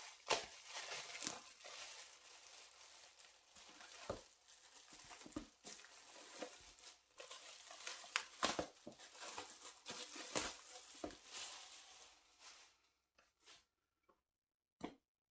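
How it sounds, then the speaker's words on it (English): Plastic wrapping being pulled off the box of a Neewer 660 LED video light makes quiet, irregular crinkles and tearing rustles that come in bursts, then thin out into a few sparse clicks at the end. "Well, I suppose the first job is getting rid of this plastic."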